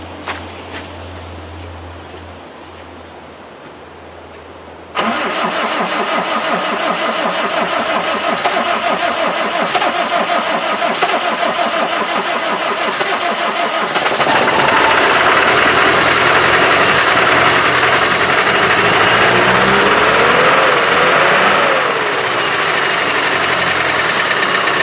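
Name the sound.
Land Rover 300Tdi diesel engine starting and running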